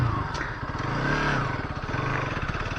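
A Bajaj Pulsar NS200 BS6 motorcycle engine runs close by with a steady, even mid-pitched thrum and a faint mechanical clatter, holding a smooth idle-like rhythm with a slight swell in the middle.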